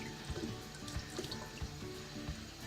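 Running tap water splashing into a sink while a makeup brush is rinsed and squeezed by hand, a steady close gush broken by soft irregular splats and drips, with no voices.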